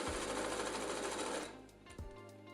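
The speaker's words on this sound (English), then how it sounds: "since it's so wide, I'm stitching from the right side of the pants to the wrong side" A sewing machine stitches a wide hem on beach pants, working from the right side to the wrong side of the fabric. Its steady, rapid mechanical whirring runs about a second and a half, then slows and stops.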